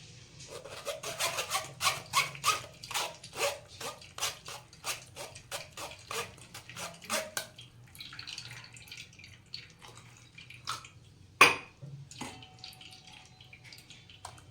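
Blended amla and mint juice is pressed through a strainer with a quick run of rhythmic rubbing strokes and faint drips, nearby and quiet, then slower scrapes and a sharp knock.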